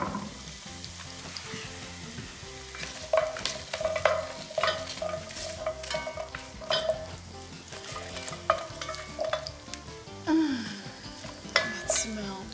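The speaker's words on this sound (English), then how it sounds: "Now we add onion and carrot to the mix." Onion and carrot frying in a pot with bacon for beef bourguignon, a continuous sizzle broken by scraping stirs and light clinks of a utensil against the pot.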